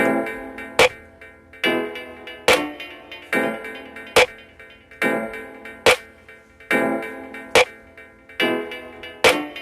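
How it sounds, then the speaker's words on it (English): Sharp layered snare and clap hits programmed on an Akai MPC Live repeat in a steady, even beat, each crack bright and punchy with a short ringing tail. "So I put my snare and my clap and layer those two."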